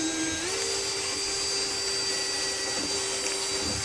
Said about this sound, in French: Donc on va percer